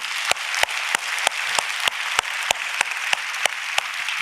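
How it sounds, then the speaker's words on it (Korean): A church congregation applauds fathers on Father's Day, a steady wash of many hands clapping at a moderate distance, punctuated by a few sharper, louder claps at regular intervals, with no talking. "이 Father's Day를 맞이해서 정말 가정을 위해서 그 희생하고 헌신한 우리 아버지들을 위해서 한번 격려의 박수"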